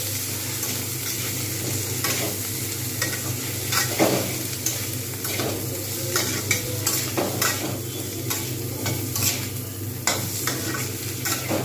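Potatoes sautéing with chili powder and turmeric powder in a pan, a steady low sizzle broken by repeated scraping and stirring strokes of a spoon, heard close and alone with no talk.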